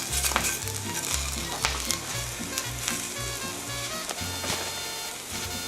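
Eggs frying on tortillas in a hot pan for huevos rancheros, a continuous close, loud sizzle with crackling pops and occasional scraping.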